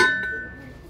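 A small glass piece clinks as it is handled at a thrift store, one bright ringing tap at the start that fades over under a second.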